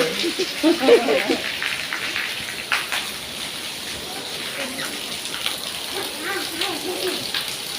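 Steady rain hisses throughout, a constant wash of patter, with a brief louder burst near the start.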